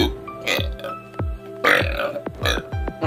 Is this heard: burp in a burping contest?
yes